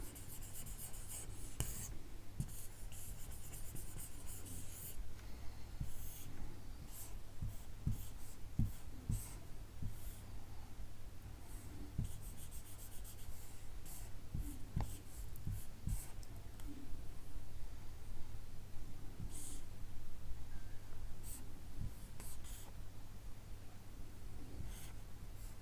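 A circuit diagram being drawn on a board, steady scratchy writing strokes and rubbing continuing throughout, close and alone, over a constant low hum.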